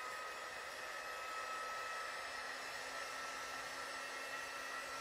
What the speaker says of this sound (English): I'm just using my quick dry tool